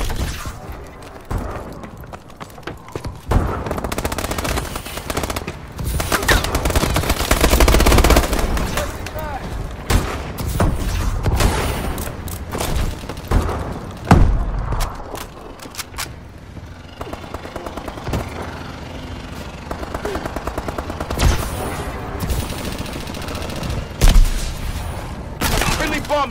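A bombing run in Advanced Warfare: heavy, continuous battle noise with rolling explosions, booms and rattling gunfire through the whole stretch, loud and dense, with a few voices heard under the din.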